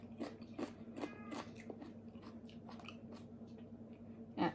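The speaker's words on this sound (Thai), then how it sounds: "ก็เคี้ยวกรุบกรุบลื่นลื่น" Crunchy, slippery warabi bracken fern being chewed, with soft wet crunches and bites repeating irregularly, faint and close to the mouth.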